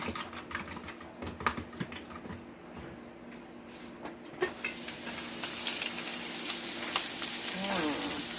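Eggs, spam and potatoes frying in a hot pan on medium-high heat give a close crackling sizzle with scattered pops and clicks, growing louder and brighter toward the end as the frying intensifies.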